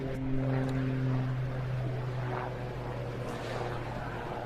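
Extra EA330SC aerobatic plane with a single piston engine performing at an air display, a steady distant engine drone with shifting pitch, continuous and fairly loud throughout with no one speaking.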